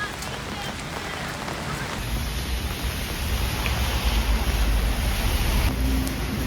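Spring rain falls steadily at Changgyeonggung Palace, a dense hiss of drops on surfaces that thickens slightly over time, with a faint high electronic whine running through the middle.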